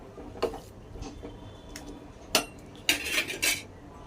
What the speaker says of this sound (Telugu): అంతా ఒకసారి గరిటతో మిక్స్ చేసుకుంటున్నాను అడగంటకుండా